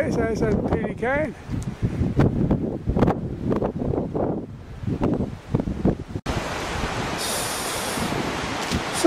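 Strong wind on the Bornholm coast roars against the microphone, mixed with people talking over it; partway through the noise shifts to a steadier, harsher gusting rumble.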